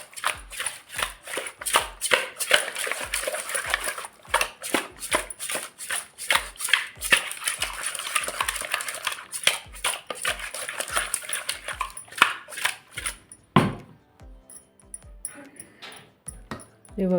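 A spoon or hand mixes spice powder and pickle powder into fish masala for a bangude fish fry, giving a steady run of rhythmic scraping and tapping strokes against a bowl, close and fairly loud, with a brief pause near the end.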